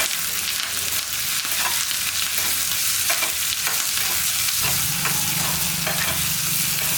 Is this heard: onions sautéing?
yes